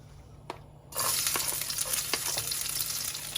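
Garlic hits hot oil in a wok over medium heat, starting a Thai stir-fry of prawns and squid; after a quiet start a loud, dense sizzle and crackle bursts up and holds steady close by.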